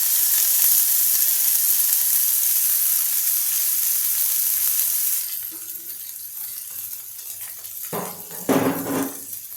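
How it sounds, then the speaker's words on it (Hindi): Green chillies crackle and sizzle loudly in hot oil for tempering, a dense steady hiss that drops off midway, followed by a few clinks of a utensil against the pan. "अब हम मिर्ची को तड़कने देते हैं।"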